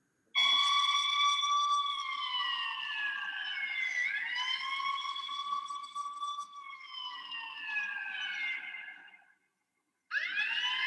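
An ambulance siren sounds loud and close as a test signal for a siren-detection prototype at a youth science competition, its sweeping wail running continuously, briefly cutting out near the end, then resuming.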